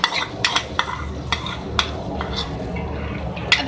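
Yogurt being whisked into fried onion for a chicken liver, potato and capsicum curry, heard as a steady low stirring scrape with sharp spoon-against-pan clinks at irregular intervals over a background sizzle.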